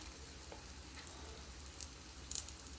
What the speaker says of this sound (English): I got them frying in a little oil